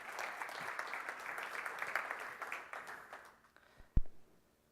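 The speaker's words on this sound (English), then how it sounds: "so come on, give a round of applause." Audience at a magician's show gives a round of applause, steady clapping for about three seconds before it fades out, followed by a single sharp knock near the end.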